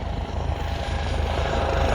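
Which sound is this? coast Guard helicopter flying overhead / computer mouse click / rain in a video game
coast Guard helicopter flying overhead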